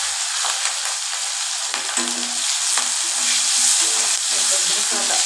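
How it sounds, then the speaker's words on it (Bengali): Chopped onion, garlic, dried red chili and green chili fry in a hot pan for a Bengali taro-leaf curry, giving a steady close sizzle and hiss broken by irregular scrapes and clinks of a spatula stirring, with no talking. "পেঁয়াজ রসুন লঙ্কা ভালো করে আমি কষাবো"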